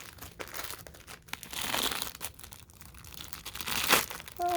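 A plastic bag crinkles around a new pillow as it is handled, with a steady run of close, soft crackling and rustling.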